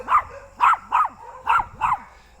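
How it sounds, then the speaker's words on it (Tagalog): A chihuahua barks sharply five times in an uneven rhythm, close by, with high yappy tones and brief pauses between barks. "Pero ang tapang na aso eh. Chihuahua lang naman."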